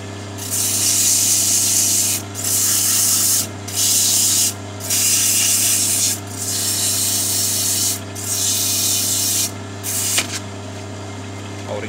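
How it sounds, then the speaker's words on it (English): Loud, close sanding of a jarrah wooden cup in repeated rhythmic strokes with brief pauses, over a constant low lathe motor hum. "but I'll give it a quick sand."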